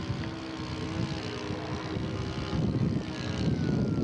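A scale model airplane with an Indian 90 four-stroke engine drones through the air in flight, a steady propeller buzz that swells slightly louder as it passes.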